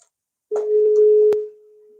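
A single telephone ring tone sounds on an outgoing call, a steady electronic tone lasting about a second before fading to a quieter continuous line.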